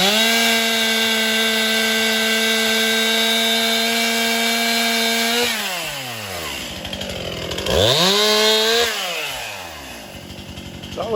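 A chainsaw cuts tree branches while clearing trees for firewood and fence posts: a loud, steady high engine whine that drops as the blade bogs in the wood, then revs up and falls again, heard close and alone.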